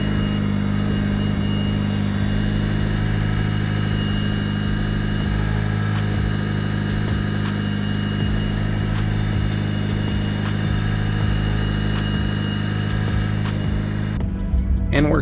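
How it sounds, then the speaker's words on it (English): Mitsubishi Evo 8 engine running on a new standalone ECU setup, a steady close idle with a low, even drone throughout and a brief rise in revs at the very end. "So what I'm going to do is just get the car started"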